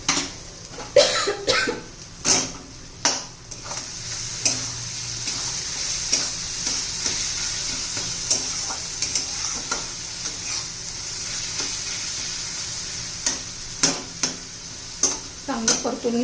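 Ginger garlic paste with curry leaves, coriander and green chilli sizzles in a pan, stirred with repeated sharp scrapes and knocks over a continuous frying hiss, with an occasional cough.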